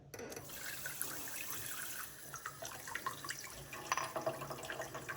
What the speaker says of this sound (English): then what I do is I add just a little bit of water.